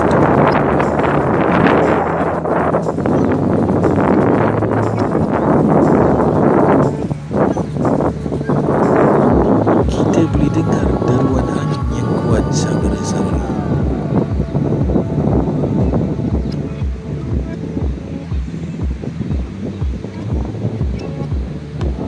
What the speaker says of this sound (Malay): petang ini anginnya kuat